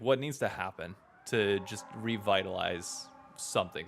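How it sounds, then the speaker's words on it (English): A police siren wails faintly in the distance behind continuous close conversation, its rising and falling tone threading between the voices. "Apologies for the sirens in the background."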